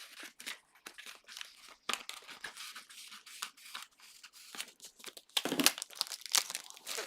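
Cut acrylic board material being trimmed off by hand. It gives close, dry crinkling and snipping crackles in irregular short bursts that grow louder toward the end.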